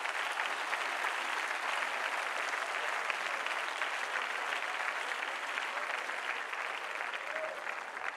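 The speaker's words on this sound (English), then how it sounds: "Why don't you give yourself a hand clap?" A youth conference audience applauds steadily for several seconds, a dense even wash of clapping from a large crowd heard from a distance, with no voices standing out.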